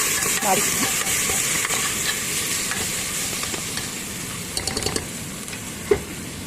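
Onions, ginger, garlic and green chillies sautéing in a pan, a steady close sizzle with scattered scraping stir strokes and small clinks throughout.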